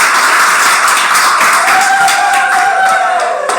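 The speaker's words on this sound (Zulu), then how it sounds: "Ngicela nishaye ihlombe." An audience at a company branch awards event in Umlazi, Durban, claps hands in a dense, loud, continuous patter throughout, with a faint tonal sound rising near the end.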